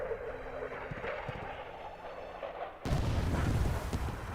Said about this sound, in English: Alright, let's airstrike this. Incoming airstrike.